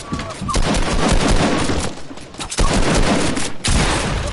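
Heavy, sustained volleys of gunfire in Fortnite, crackling shots piling into a near-continuous loud barrage, with brief dips before it surges again.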